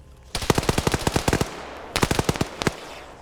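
Automatic gunfire in the military shooter Arma 3: a rapid burst of about fifteen sharp shots, a short pause, then a second burst of roughly eight, crisp and fairly close.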